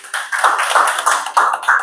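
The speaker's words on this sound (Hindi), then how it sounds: "सभी के एक बार जोरदार ताली होनी चाहिए" Audience clapping at a company motivational meeting, close and fairly loud, in uneven overlapping bursts for about two seconds with no talking.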